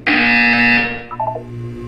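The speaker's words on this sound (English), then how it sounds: "You will hear a buzzer." A loud electronic buzzer from the Portal 2 video game sounds as one sustained harsh tone for under a second, then drops into a softer lingering hum with a few brief warbling blips, with no talking.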